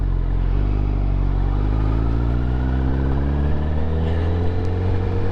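Honda CBR1000RR sport motorcycle engine idling steadily up close, a loud, deep, continuous drone with strong low harmonics and no talking.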